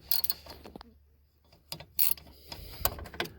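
Caliper bolts are worked loose on the front hub of a 2000 Polaris Sportsman ATV, heard as close, rapid ratcheting clicks and metallic mechanism noises in short bursts with quiet gaps.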